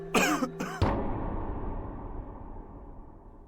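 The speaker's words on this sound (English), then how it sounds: "I heard a man cough right outside the house" A man gives a short, harsh cough, a couple of rough bursts that ring out into a reverberant room and fade.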